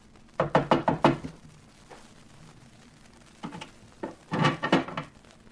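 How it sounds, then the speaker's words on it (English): Knocking on an iron door at the top of a narrow staircase. A quick series of four or five sharp, close raps, then a pause and another cluster of several loud knocks. "The waiter rapped on the door."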